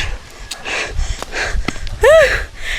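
A person pants and gasps close to the microphone, out of breath after walking a hyper dog on a farm in the Philippines. Uneven breaths and sniffs come in bursts, with a short high voiced wheeze near the end.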